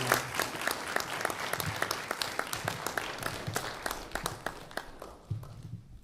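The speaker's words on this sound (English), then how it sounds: "if we could give them a big round of applause and thank him for being here" An audience claps to welcome a speaker to the stage, individual claps crisp and distinct in a moderately sized crowd, steady for several seconds before thinning out and fading near the end.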